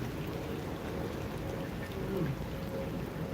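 Night rain falls steadily over Dhaka, an even, dense hiss of drops that continues without pause.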